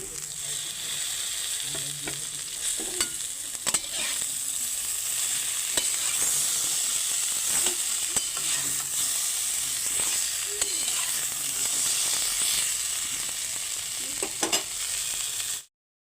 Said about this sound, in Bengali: আমি একদম অল্প তেলে রান্না করছি এবারে দিয়ে দিচ্ছি ডাঁটা আর টমেটো